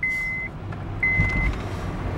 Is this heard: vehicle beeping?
yes